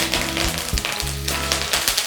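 Curry leaves and cumin splutter in hot oil during tempering, sharp crackles and pops bursting over a steady sizzle, close and loud.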